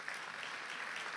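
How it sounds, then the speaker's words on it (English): Applause from a gathering honouring sponsors at a Kaiser Permanente Georgia health event: a brief, fairly faint, even patter of many hands clapping, heard alone without talk. "I want to give all the sponsors a round of applause"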